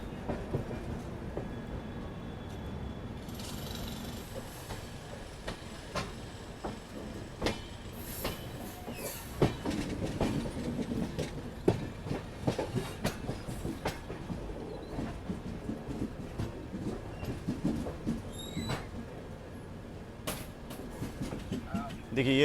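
Tirunelveli Bilaspur Super Fast train rolling along rails near Nagpur, a steady rumble with scattered clicks and clacks of wheels over joints, heard from on board, with faint voices at times.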